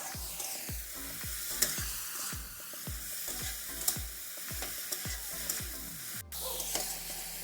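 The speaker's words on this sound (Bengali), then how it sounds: "দেখুন সুন্দর করে কষিয়ে নিচ্ছে।" Spices and bata fish stir-fried together in a pan for a Bengali village dish, with a close, steady sizzle and a regular series of scraping spatula strokes.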